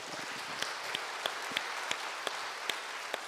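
A church congregation at a Sunday worship service claps loudly together, a dense, steady wash of applause with a few sharper individual claps standing out above it. No voices can be heard.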